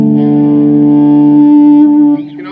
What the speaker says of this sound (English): it's the sound of like a 335 with the two pickups, three-way switch in the middle